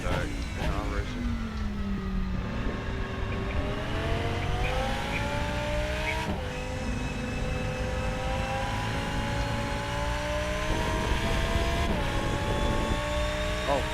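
A Porsche race car engine drones and shifts pitch steadily through a racing video game, rising and falling with gear changes while a person talks over it throughout.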